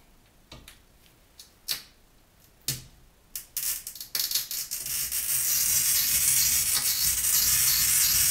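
A handheld glass cutter scoring a 50 by 50 sheet of glass: a few sharp isolated taps and clicks, then a continuous close, loud, hissing scratch as the wheel runs across the pane, with nobody talking.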